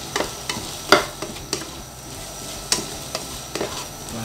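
Spatula scrapes and taps against a pan as cabbage stir-fry with eggs is mixed, several sharp knocks over a low sizzling background, no talk.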